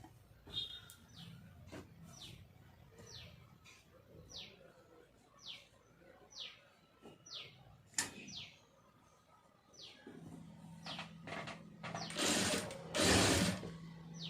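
Domestic sewing machine stitching the waistband of a lined blouse, heard as a run of separate mechanical ratcheting bursts, then a louder sustained whirring run near the end.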